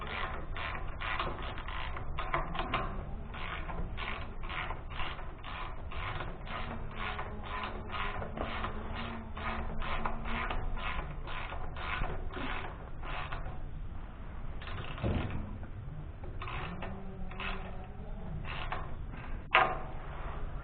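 Wrench tightening 1/4 inch carriage bolts on an old manure spreader, steady rhythmic ratcheting clicks repeating throughout, close and moderately loud, with occasional creaks and metallic knocks.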